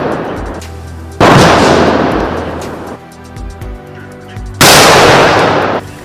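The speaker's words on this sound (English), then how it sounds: "Then the 21-gun salute." Ceremonial 21-gun salute fired at a state house welcome for a visiting president: two loud, sustained cannon blasts with long rolling echoes, separated by a quieter stretch of distant rumble.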